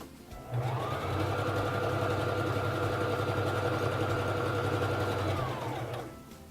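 A Singer Fashion Mate 3333 sewing machine runs a zigzag stitch at a longer stitch length, a loud, steady motorized whir with a rapid needle chatter that holds for about five seconds before stopping.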